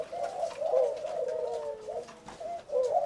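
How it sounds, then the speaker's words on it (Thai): A red spotted dove coos in steady, repeated low phrases, close and clear, with short breaks between the rolling notes and little else in the background. "อยากให้ลองฟังเสียงขันโยนของเขาดู"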